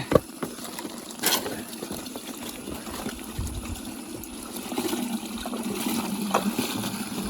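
Water runs out of a freshly opened, previously blocked outlet, a steady low trickle and gurgle with a few faint splashes that grow slightly stronger toward the end.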